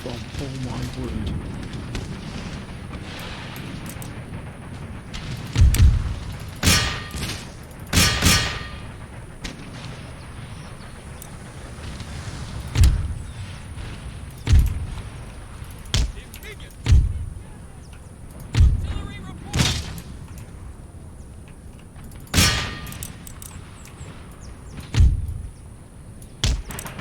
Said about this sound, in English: The artillery is what has possibly won this for us.